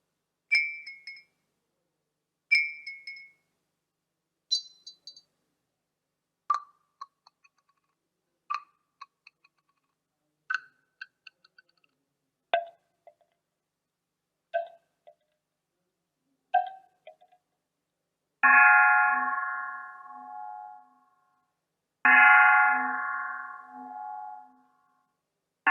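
Simulated vibration sounds of struck objects, played as a series from a ground-truth solver, a mixed vibration solver and a reduced solver. Short glassy clinks and ticks come in pairs and groups with silence between, and end in two longer ringing tones. No one speaks.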